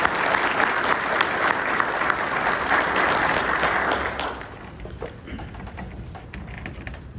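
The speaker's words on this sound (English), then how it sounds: "A round of applause for Deputy Bordeaux." Loud, sustained applause from an audience at a county sheriff's office awards ceremony honoring a deputy, steady clapping for about four seconds before dropping to a thinner scatter of claps and room noise.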